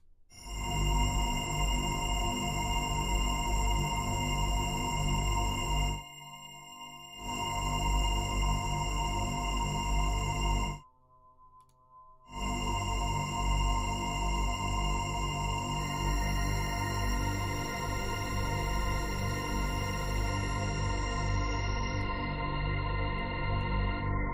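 A continuous, smeared electronic drone with sustained tonal layers from a sound time-stretched by a factor of 120, broken by two brief silences, then slowly thinning at the top toward the end.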